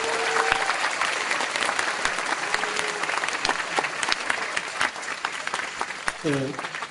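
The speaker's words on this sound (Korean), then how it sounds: "박수 부탁드립니다." A lecture audience applauds a visiting Polish ambassador, sustained clapping from a sizable crowd with a few voices calling out and brief murmurs mixed in, fading slightly near the end.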